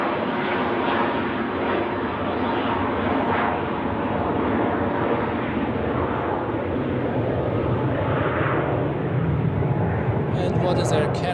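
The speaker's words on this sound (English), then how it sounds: "Pilatus 24 on the runway going to Palma de Mallorca." A Pilatus aircraft on the runway at Zurich Airport in winter, a loud steady engine roar that holds at constant strength throughout, with a voice talking over it.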